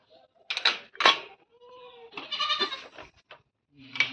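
Goats and lambs on a farm bleating, several nearby wavering cries in uneven bursts separated by short pauses, heard on their own with no talk.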